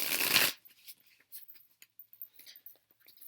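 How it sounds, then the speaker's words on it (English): Tarot cards being shuffled in one quick, loud riffle, followed by softer scattered card taps and rustles as the deck is handled, close to the listener. "let me shuffle real quick"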